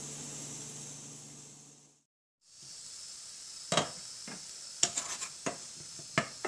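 Broccoli fries in a covered pan as part of a spicy yogurt curry, giving a steady hiss that cuts out briefly, then returns with sharp clinks and scrapes of a utensil against the pan.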